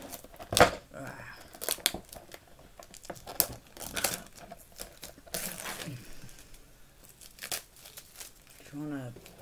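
A Space Marines box is cut open and unwrapped, with close crinkling, tearing and snipping of packaging in irregular bursts while a person talks throughout.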